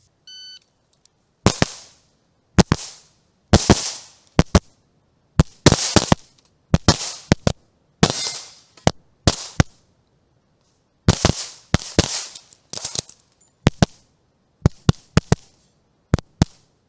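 Rapid gunshots ring out during a practical shooting competition stage run, a sharp start beep followed by loud, close cracks in quick pairs and strings with short pauses between target arrays, no talking.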